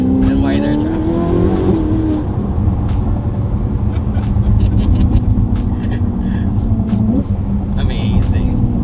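A modified Ferrari 488 Pista with race exhaust, wider tires and wider tracks accelerates hard on the street, its engine roaring and rising through gears with sharp shift cracks, loud and close, under occasional talk.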